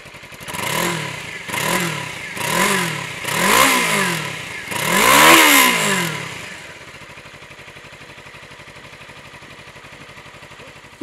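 A Suzuki V-Strom 250 motorcycle engine revs in repeated rising surges, five throttle pulls in a row, then settles to a lower steady running hum.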